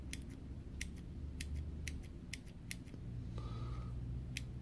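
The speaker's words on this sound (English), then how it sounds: "Listen to the click of the mechanism." A Pentel 0.7mm mechanical pencil's push mechanism clicks about nine times in an irregular rhythm, crisp, close and fairly quiet above a steady low background hum.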